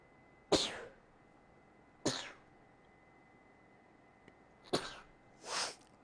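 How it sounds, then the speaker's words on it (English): A person sneezes several times in a row, each burst sudden and breathy with a trailing exhale, separated by quiet pauses, close to the microphone with no talking between them. "Oh, I'm going to sneeze again."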